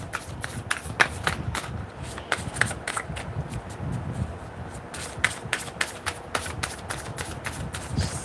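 A deck of tarot cards is shuffled by hand at close range, a continuous run of quick riffling slaps and rustles with a steady irregular rhythm.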